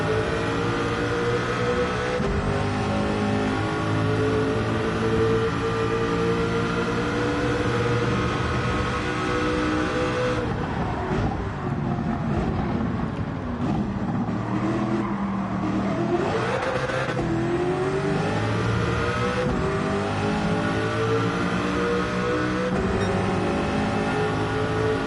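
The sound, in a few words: car engines revving in Gran Turismo 7 video game race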